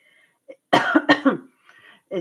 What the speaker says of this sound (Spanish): estoy con mucha tos